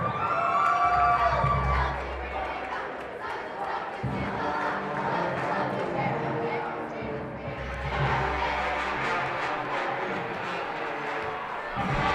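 A packed high-school basketball gym crowd roars and shouts just before tip-off, with whoops and raised voices filling the room. The din is loud and sustained and swells again after a brief dip midway.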